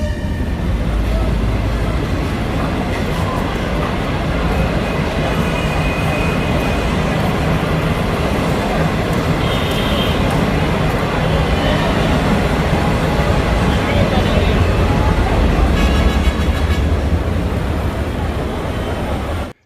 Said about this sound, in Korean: 그런 와중에 갑작스럽게 들어닥치는 기차.